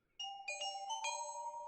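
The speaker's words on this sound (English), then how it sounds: "Nope, that's a bell." Bright cartoon bell sound effect from the Mickey Mouse Clubhouse show, a few quick ringing chimes layered into a sustained shimmering tone, clear and alone.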